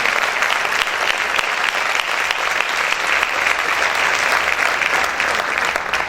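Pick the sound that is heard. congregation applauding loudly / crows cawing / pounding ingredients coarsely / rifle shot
congregation applauding loudly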